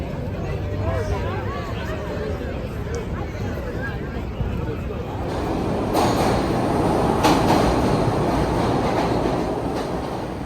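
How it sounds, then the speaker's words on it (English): A subway train rattles and roars continuously from inside the car, with clattering wheel noise and a screeching squeal early on, growing louder and harsher halfway through as the train speeds along. "The subway ride back was disgusting"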